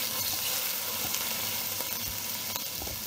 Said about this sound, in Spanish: Ya tengo calentando la cocot en la vitro. Lo primero que haremos es sellar la carne.